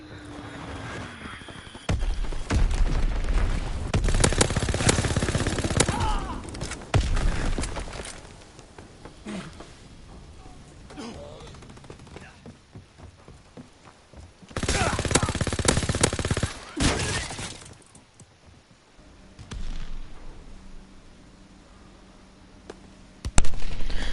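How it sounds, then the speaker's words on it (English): Azon bombs exploding and bursts of automatic gunfire from a Call of Duty match, loud and dense in long rolling waves with brief quieter gaps, a little game voice underneath. "Enemies on the upper deck! Dropping Azon bomb."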